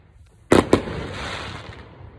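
Two loud fireworks explosions crack in quick succession on Memorial Day, the second slightly softer, followed by a rumbling echo that fades over about a second.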